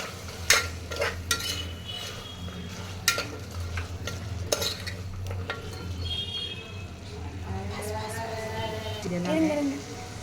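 Potatoes and mixed vegetables sautéed in a pan for vegetable kurma, with repeated spoon scrapes and clinks against the pan over a steady low sizzle, a few sharper knocks standing out, and faint talk in the background.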